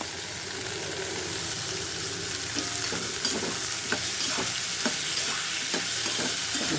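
Onion and potato sautéing with ginger-garlic paste for prawn thokku, a loud steady frying sizzle with occasional stirring scrapes and taps, close up.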